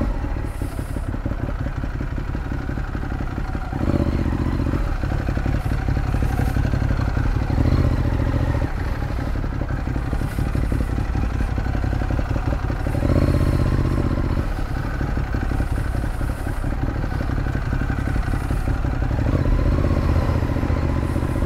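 A motorcycle engine runs continuously while riding through Paris traffic, a loud steady drone with shifting revs and a clattering rattle throughout, and no voices.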